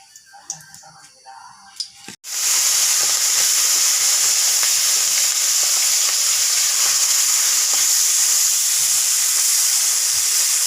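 Oil hits a hot kadai before fish goes in to fry. A sudden loud sizzle bursts in after a quiet, clinking start, then keeps up a steady hiss with small crackles to the end.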